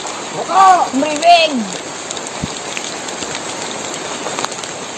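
Steady broadband hiss of rain falling at night, a constant wash through the whole stretch, with brief voices speaking near the start.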